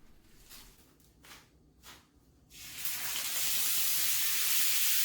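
Beef drops into hot avocado oil and breaks into a loud, steady sizzle after a few soft taps and handling noises, the frying hiss filling the rest of the moment.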